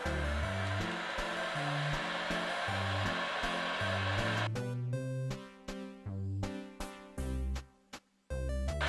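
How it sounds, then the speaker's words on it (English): Heat gun melting stuck vape cartridge oil: a loud, steady blowing roar that cuts in and out in several short stops toward the end, with no talk. "just use your heat gun to melt it down"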